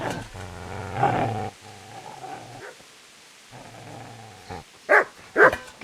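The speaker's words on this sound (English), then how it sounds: "Get away, you mutt!" A dog in Kingdom Come: Deliverance growls low and steady, pauses, growls again, then lets out several sharp, close barks at the end.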